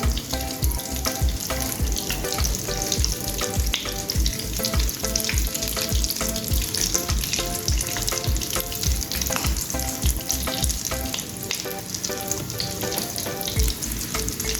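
Egg devil fries and browns in a pan, giving a loud, continuous sizzle with rhythmic bubbling and spattering that runs evenly throughout, with no voices.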